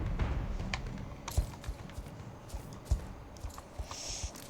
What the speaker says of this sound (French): c'est le son de centaines de sabots qui viennent dans notre direction